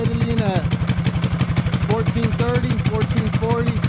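A mini bike's small engine idles close by with a fast, steady popping putter and some clatter, while someone talks over it.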